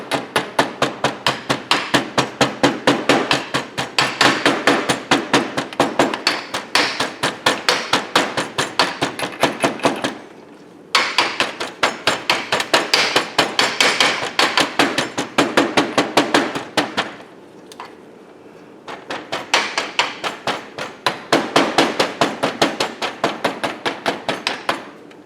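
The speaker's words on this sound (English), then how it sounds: "because this flask is so small, I'm going to use just a regular old ball peen hammer" Rapid, rhythmic ball peen hammer blows ring on a small metal casting flask in long bursts, with two brief pauses before the steady pounding resumes.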